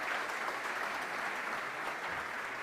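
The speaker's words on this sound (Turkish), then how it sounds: "Yine alkışlayalım bakanlarımızı" Sustained applause from a ceremony audience welcoming government ministers onstage at a national high school patent award event, an even, steady roar of many hands clapping with no speech over it.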